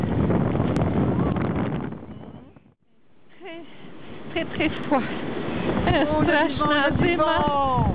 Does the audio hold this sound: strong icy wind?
yes